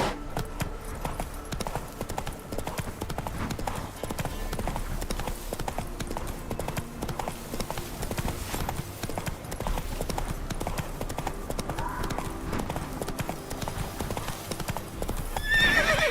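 A horse in The Witcher 3 gallops with a steady, fast clip-clop of hooves throughout, and a whinny breaks out near the end, loud and close.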